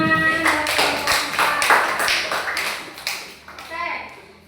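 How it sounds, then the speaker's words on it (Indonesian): Classroom of children applauding together, a burst of quick overlapping claps that fades toward the end, with kids' voices mixed in. "tepuk tangan"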